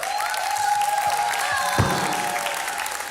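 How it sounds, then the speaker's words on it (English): An audience at a back-to-school readiness summit in a Homestead church claps steadily, a dense, sustained round of applause from a full room with a faint tone lingering in the background. "So we're gonna applaud coming in, we're gonna applaud going out."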